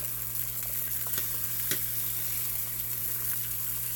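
Thin strips of beef sizzling in a pan for a sub sandwich, an even, steady hiss with a couple of brief crackles over a low hum, close by and without speech.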